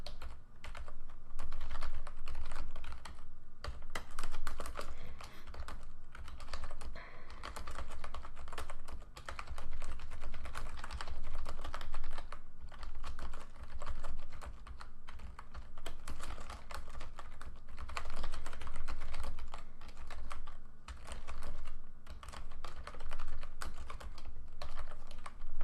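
Steady, continuous typing on a computer keyboard, close and fairly loud, with dense rapid key clatter running the whole length without pauses or voices.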